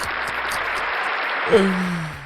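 A dense patter of clapping from a group fills the clip, steady and moderately loud, with a brief thump and a low tone near the end.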